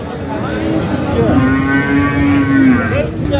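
A cow at a livestock bazaar in Sirdaryo gives a loud, close, drawn-out moo lasting a couple of seconds, with market background behind it.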